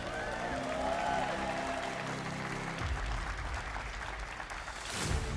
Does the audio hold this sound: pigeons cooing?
no